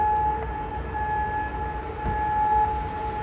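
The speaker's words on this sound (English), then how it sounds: "sirens sounded across Kuwait City as the military's air defences intercepted the missile and drone attacks" Steady wailing air raid sirens drone in the distance across Kuwait City during missile and drone interceptions, over low rumbling background noise, holding a flat pitch throughout.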